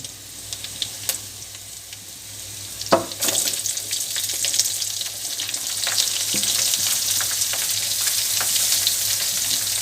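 Sliced onion dropped into hot oil in a pan for a soybean fry, starting with a few clatters, then breaking into a steady, close, bright sizzle that grows and holds to the end, with no one talking.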